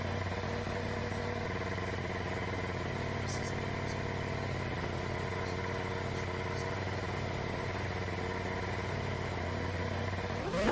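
Ferrari SF-75 engine in a racing video game, a steady mid-pitched hum held at an even level throughout with no talking.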